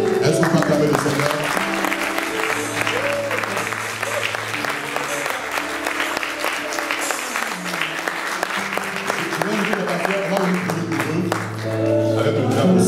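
A church congregation applauding and cheering at length during a French-language worship service, a steady loud wash of clapping and voices with sustained organ or keyboard chords underneath.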